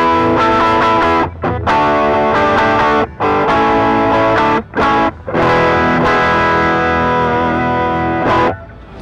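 An electric guitar plays bluesy chords and lines through a low-gain overdrive pedal with rolled-off low end, loud and close, with short gaps between phrases and a final ringing chord.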